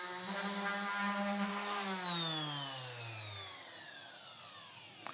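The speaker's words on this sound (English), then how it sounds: "sand it down with our orbital sander using a 120 grit sandpaper" An orbital sander fitted with 120-grit sandpaper on wood gives a loud, close motor whine whose pitch slides steadily downward as it winds down and fades, with no talking.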